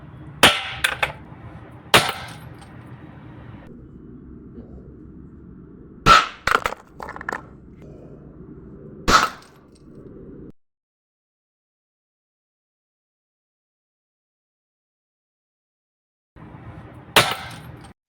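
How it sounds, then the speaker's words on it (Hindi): Homemade tikdi cap firecracker bomb made from cap-gun caps, going off in a handful of sharp, loud cracks spread over several seconds, with hissing and crackling between bursts and a long silent gap before a final crack. "इस टिकड़ी बम को करते हैं टेस्ट और देखते क्या होता है"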